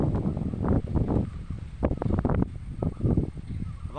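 Light wind blows outdoors up on a high spot with crows circling nearby, buffeting the microphone in irregular gusts and rustling bursts with no speech.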